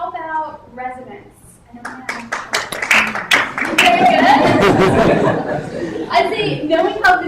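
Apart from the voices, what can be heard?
audience clapping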